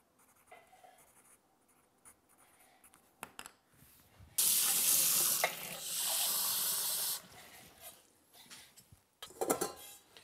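Warm water running from a kitchen tap while sourdough bread ingredients are measured, a steady close hiss and splash lasting a few seconds, with faint clicks and handling noises around it and no speech.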